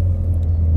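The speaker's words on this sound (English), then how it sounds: "this car is stupidly loud" A very loud car engine rumbles in a deep, steady roar that fills the brief moment with no pause.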